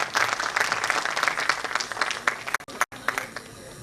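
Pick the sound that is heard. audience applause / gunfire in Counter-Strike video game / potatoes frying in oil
audience applause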